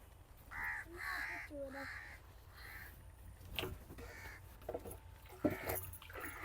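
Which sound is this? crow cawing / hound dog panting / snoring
crow cawing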